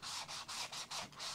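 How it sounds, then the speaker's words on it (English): Wet sanding EVA foam with folded, flexible 320-grit sandpaper, six even back-and-forth rubbing strokes in a steady rhythm, soft and close with no talking. "I can do some wet sanding."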